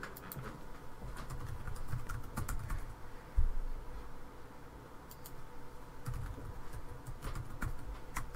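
Someone typing on a computer keyboard while adding a new user in radio station scheduling software, with steady close key clicks in short bursts and a brief louder tap partway through, no voices.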